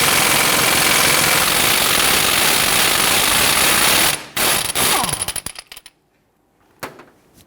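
A wrench works a rusted front strut bolt on a 2011-2015 Kia Sorento back and forth, giving rapid ratcheting clicks over a loud hiss, then a series of sharp separate clicks fading to near silence.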